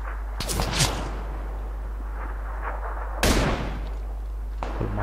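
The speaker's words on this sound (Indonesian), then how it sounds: "Woi, woi ada yang nembak." Two sharp, loud gunshots crack out in PUBG Lite, spaced a few seconds apart with a short echo trailing each, over a steady low background hum.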